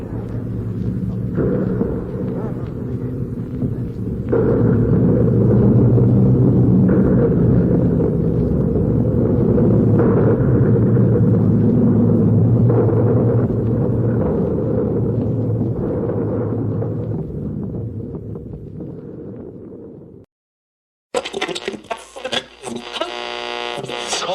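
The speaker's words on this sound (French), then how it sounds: "on perçoive le grondement des canons de la DCA" A deep, continuous rumble of distant anti-aircraft guns during an air raid on a city rolls on for a long stretch, swelling and easing, then cuts off abruptly into a different sound.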